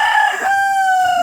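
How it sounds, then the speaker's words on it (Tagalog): A rooster crows once in a mountain area, a loud, drawn-out harmonic call held steady for over a second, close by with no talk over it. "Ang daming manok."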